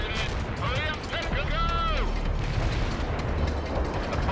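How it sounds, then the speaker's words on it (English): Artillery and mortar strikes in World in Conflict: Soviet Assault rumble continuously in the low end, with rising and falling whistling tones and mechanical clatter on top. A voice is heard during the barrage. "looks like we got artillery and mortars coming in"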